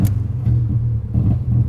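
An Alfa Romeo 156 with a missing alternator belt, its engine running with a low, throbbing rumble that pulses unevenly, close by and fairly loud.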